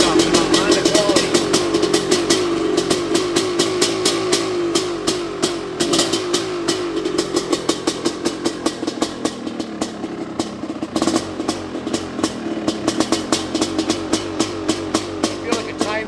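A 1982 Honda CR250R two-stroke motocross bike running just after a cold start, a steady buzzing engine note with rapid crackly pulses throughout, close by, loud and continuous with no clear revving.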